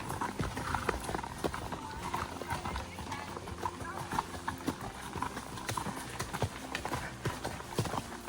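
Horse hooves clip-clopping down a steep trail in Eminence, Missouri, a close, steady irregular rhythm of hoof strikes on rocky ground with occasional slips, while a rider talks over them.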